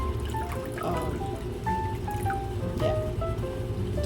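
Water is poured into a measuring container before boiling for a taro bubble drink, a close, continuous trickling and filling sound with small rising tones as the level climbs.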